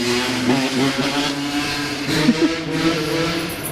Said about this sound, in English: Here's some dirt bikes driving through my ghetto neighborhood.